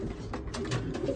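Racing pigeons coo softly and steadily inside a loft, a close, low murmur of several birds overlapping through the moment with no talk.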